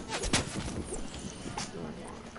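Video game gunfire, a few sharp quiet shots with one stronger burst early on, heard over low background game noise with some faint talk.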